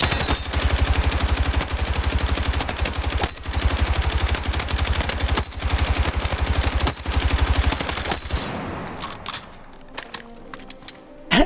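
A light machine gun in Battlefield 6 fires long, rapid sustained bursts, loud and close, with brief pauses between strings before the shooting stops and a few scattered impacts follow.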